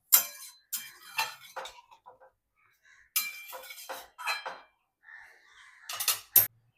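A pot of Bengali gathi kochu curry gets stirred, then covered with a lid, heard as a few close metallic scrapes and clinks in short bursts with quiet gaps between them.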